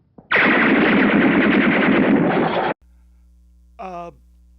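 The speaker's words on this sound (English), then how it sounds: "Fire a volley through the window pane." A police volley of gunfire blasts through a greenhouse window in an old monster film, a loud sustained burst of rapid shots cutting off abruptly, followed by hum and a brief voice.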